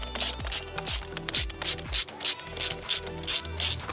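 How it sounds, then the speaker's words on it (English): A ratcheting driver clicks rhythmically while backing T20 screws out of the back plate of a BMW F30 steering wheel, a steady, loud, close series of ratchet turns about three or four per second. "These are all T20s, so go ahead and carefully remove these."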